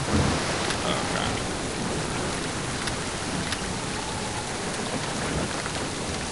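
Steady, dense rainfall in the video game Splinter Cell: Chaos Theory, a continuous close hiss of drops on surfaces that stays even throughout, with no voices.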